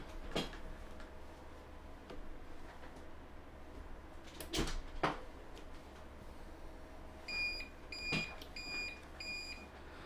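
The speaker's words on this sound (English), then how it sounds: "Beeps on the unit saying it's now running on battery power." A series of short electronic beeps near the end from an APC Back-UPS ES 550 switching to battery power after being unplugged, following scattered clunks and knocks against a low steady hum.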